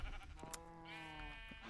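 Video game sheep bleat as a sheep-collecting hunt for all wool colours goes on: a short blip, then a sustained wavering bleat from about halfway on, clear and close over a quiet background.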